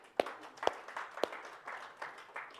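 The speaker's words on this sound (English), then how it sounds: "How about a clap?" Scattered clapping from a church congregation, a few sharp individual claps standing out over a soft, uneven patter that carries on for under three seconds.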